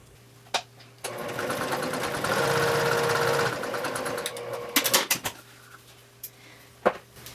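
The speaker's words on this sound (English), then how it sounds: "you're going to take this over to the sewing machine and sew a diagonal line from this upper left corner down to the lower right corner" A sewing machine stitches a diagonal seam across a strap in one steady run of a few seconds, framed by clicks and handling noises before and after.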